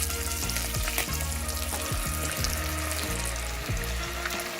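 Beaten eggs left over from bokking sizzle loudly in a hot pan, a dense continuous crackle and hiss with repeated scraping strokes of a utensil over it.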